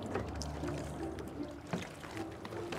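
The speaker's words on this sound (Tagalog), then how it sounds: "Haner decides to paddle further out to sea." A rowboat paddled without a motor out at sea, with steady water sloshing and soft trickles around the hull plus occasional splashy paddle strokes, heard close and fairly quiet.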